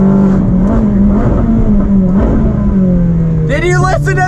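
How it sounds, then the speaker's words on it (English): A car in fourth gear slowing under hard braking, with engine braking: a loud, steady engine drone holds near the microphone, then a quick burst of sharp rising revs near the end fits rapid downshifts. A voice talks over the engine throughout. "it actually initiates downshifts in a perfect sequence to slow the car down as efficiently with engine braking as possible"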